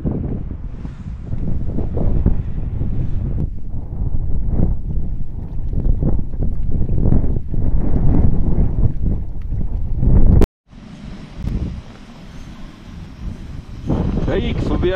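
Strong, sour wind buffets the microphone outdoors on a mountain during light rain while fishing, a loud rumbling gust that dominates, cutting out briefly before a hissier blast resumes.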